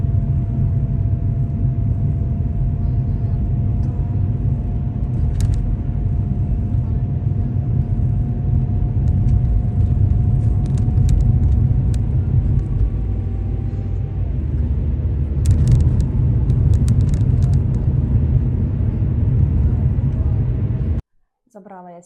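Steady low rumble of a car driving on the road, with a continuous engine drone and road noise filling the cabin throughout, close and fairly loud, ending abruptly near the end.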